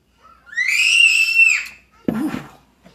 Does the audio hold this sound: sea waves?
no